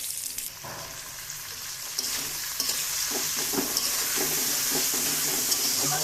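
Spices frying with pangas fish and boiled potatoes in a pan, a continuous close sizzle with stirring scrapes and occasional soft knocks, growing slightly louder, no voices.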